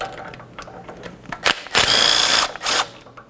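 A power tool spins out 12mm bolts from a transmission mount on a 2003-2007 Honda Accord, heard as short close whirring bursts with a longer run near the end, separated by clicks and handling noise.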